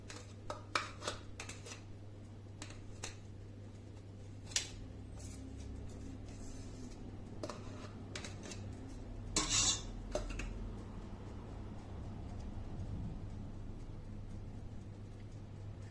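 A spoon scrapes and taps against a bowl while mascarpone is scooped in, giving sharp metallic clinks scattered over a low steady hum, clustered near the start and again midway.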